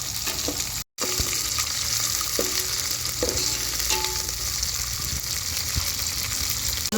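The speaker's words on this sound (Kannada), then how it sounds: "ಸ್ವಲ್ಪ ದಪ್ಪದರ ಎಣ್ಣೆಲಿ ಫ್ರೈ ಆಗಬೇಕಿದು ಈರುಳ್ಳಿ" Onions frying in a generous amount of oil for a village-style okra and field bean curry, a loud, steady close sizzle with a brief gap near the start and scattered stirring clinks, no talk.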